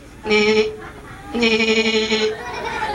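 A person imitates a goat with two wavering, nasal bleats, the second longer, amid faint background chatter.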